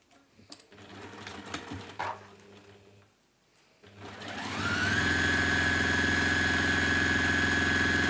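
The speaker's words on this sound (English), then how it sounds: "I'm going to sew 1/4 of an inch along that bottom there." After some quiet handling and rustling of fabric, a sewing machine starts up and runs steadily, sewing a quarter-inch seam along the bottom of a fabric pouch, its motor hum rising and holding loud and close.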